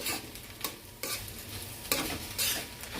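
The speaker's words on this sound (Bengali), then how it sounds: "ছোট চামচের 1/2 চামচ দিয়ে নাড়াচাড়া করে দেবো" Spices with cardamom and cinnamon powder being stirred in a pan for a prawn-and-poppy-seed dish: a soft, steady sizzle with a few distinct scrapes of the spoon across the pan, close and quiet.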